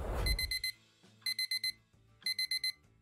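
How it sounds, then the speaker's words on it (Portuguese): Alarm clock radio ringing in a morning scene from the game Date Z, sounding two separate bursts of four rapid, shrill electronic beeps with a short pause between them and nobody talking. "O teu despertador faz o seu melhor para garantir que não percas o primeiro dia de aula"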